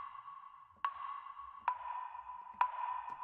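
A Toronto-style percussion sample in an FL Studio beat pings a bright, ringing tone that hits sharply three times in a slow, even pattern, sounding alone and fairly soft.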